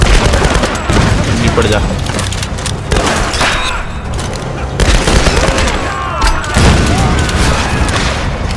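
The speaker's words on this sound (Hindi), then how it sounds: "कसम से मशीन गन एंड में इतना काम आएगा मुझे पता नहीं था" Machine gun fire in the 2013 video game Tomb Raider, loud and sustained, with dense rapid bursts mixed with heavy booms and explosions throughout while a voice briefly speaks over the din.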